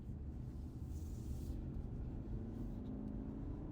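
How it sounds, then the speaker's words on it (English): Car engine in manual mode, shifted up from first into second gear with paddle shifters; a steady, fairly quiet low hum runs throughout, with a faint rising engine tone after the shift. "I'm gonna use the shifters to shift up into second gear"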